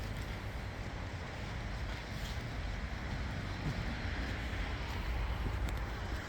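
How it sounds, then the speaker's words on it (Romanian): Wind rumbles and buffets continuously, a steady broad roar with no voices. "Bate un vânt pe aici."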